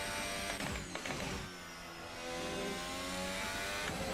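A formula race car engine in the Assetto Corsa racing game drones steadily and high-pitched. It dips briefly as if lifting off, then climbs again under acceleration. The engine sounds alone, with no voices.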